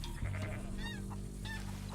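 Flock of geese honking as they fly overhead in the WildRP role-play game, several overlapping calls at moderate distance over a steady low background hum.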